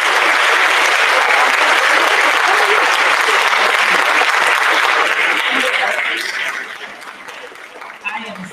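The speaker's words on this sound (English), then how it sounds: "Please welcome her with a round of applause." A packed college auditorium audience applauds to welcome a guest speaker, loud sustained clapping from a large crowd that tapers off near the end, with a few scattered chuckles and voices emerging as it fades.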